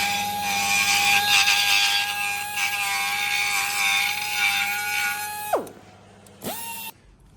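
A power tool whines loudly and steadily while cutting open a car radiator, then spins down sharply. It briefly revs again before cutting off into near quiet.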